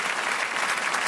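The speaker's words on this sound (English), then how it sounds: "Can I have some cheap applause, please?" Theatre audience at a royal variety performance breaks into a steady wash of applause, dense and continuous for about a second, loud and close with no talk over it.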